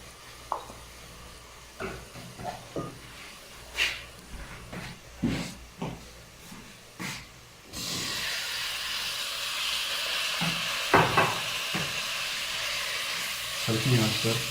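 A spice paste of red chili, cumin, salt, turmeric, tomato and ginger sizzles in a pan over low heat for a dal kadu dish, a broad steady hiss that starts partway through after scattered clinks and knocks, with talk under it.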